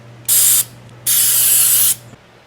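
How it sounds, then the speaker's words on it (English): Two loud bursts of brake cleaner spray hiss across a rear brake part during a 240SX Z32 brake swap, a short blast followed by a longer steady one, close up with no talking. "Take some brake cleaner and clean this thing up."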